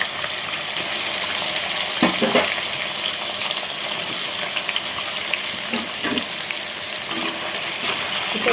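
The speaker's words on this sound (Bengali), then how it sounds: "এটা একটু লাল লাল করে ভেজে নেব" Onions fry in hot oil with whole garam masala spices, a steady close sizzle running throughout with a few scraping stirs from a spoon in the pan.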